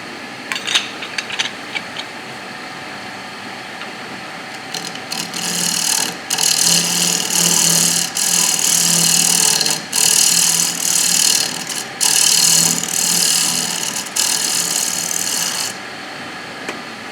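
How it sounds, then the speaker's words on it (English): Bowl gouge making a shear scraping cut inside a wooden bowl on a wood lathe, a steady hissing scrape in several passes over the hum of the running lathe, close and fairly loud. "Again, that's the shear scraping cut."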